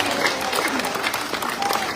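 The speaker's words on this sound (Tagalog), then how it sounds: "Palakpakan niyo ang inyong chairman at mga kagawad." A crowd applauding during an aid visit to fire victims in Tondo, a dense, steady wash of clapping with voices mixed in.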